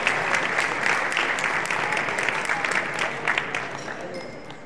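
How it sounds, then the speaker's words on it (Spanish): An audience at a Hatzalah recognition ceremony gives steady, dense applause for the honorees, loud and sustained before tapering slightly. "Un aplauso para ellos, por favor."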